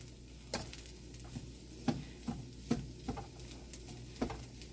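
Beef fried rice cooking in a wok, with a steady low sizzle under a series of sharp scraping clicks as a utensil stirs and spreads the rice, about six light knocks spaced irregularly.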